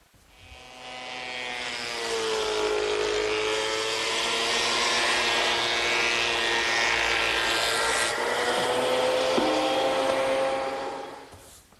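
A thickness planer feeds wood boards down toward about 5/8 inch, giving a steady whining machine drone with a rising and falling pitch that runs for roughly ten seconds before trailing off.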